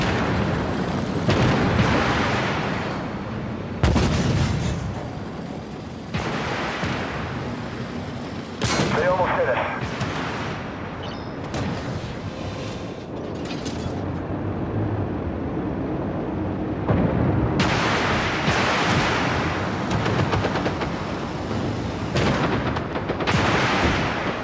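Tank battle in the Armored Warfare game with a T-90: heavy cannon booms and bursts of gunfire recur across the clip, loud and dense, mixed with in-game voice lines and radio chatter.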